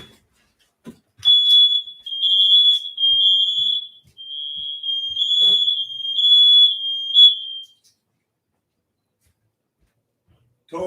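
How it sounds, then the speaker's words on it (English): A sensitive home smoke detector shrieks in a loud, piercing high tone, sounding in a few pulsing bursts for about six seconds before stopping abruptly, set off by burning charcoal indoors. "There goes my smoke detector."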